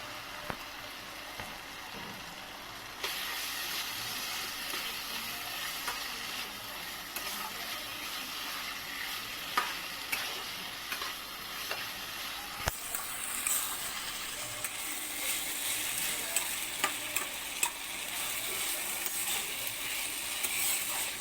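Fried potatoes added to spice masala already browned in mutton fat in a pan, a quiet, steady sizzle with intermittent clicks and scrapes of stirring, louder in the latter half.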